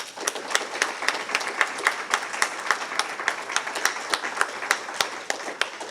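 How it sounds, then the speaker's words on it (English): An audience at a hospital association awards event applauds the Hays Medical Center team, a steady round of many hands clapping in a moderately sized room, sustained for several seconds without speech. "let's congratulate all of the Hayes Medical Center team in the efforts that they've done today with a round of applause"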